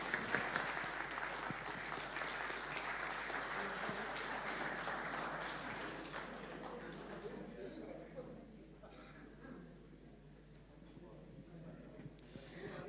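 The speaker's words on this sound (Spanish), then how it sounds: "Y un aplauso para ellos." An audience at a citizens' water meeting claps in a loud, dense burst that gradually thins and fades over about ten seconds. Murmured voices and crowd noise carry on beneath it as it dies away.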